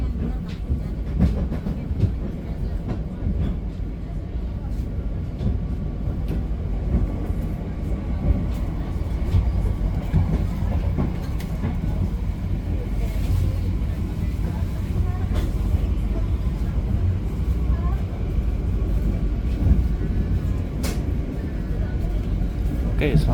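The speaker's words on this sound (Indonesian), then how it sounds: "Kereta api Pangrango persiapan tiba di tujuan akhirnya stasiun Sukabumi" Continuous rumble and rattling from inside the Pangrango passenger train on the Bogor–Sukabumi line as it rolls into Sukabumi station, with steady low drone and occasional wheel clacks, a voice speaking over the noise.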